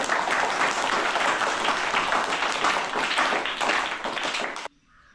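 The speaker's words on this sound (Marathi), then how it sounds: "सरांच्या या यशस्वी कौटुंबिक जबाबदारीसाठी आपण एकदा जोरदार टाळ्या वाजवू." An audience at a teacher's farewell ceremony applauds loudly and steadily for several seconds, a dense wash of clapping that stops abruptly near the end.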